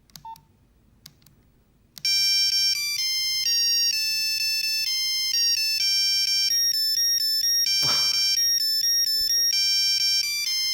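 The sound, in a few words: Nokia 3210 ringtone playing a song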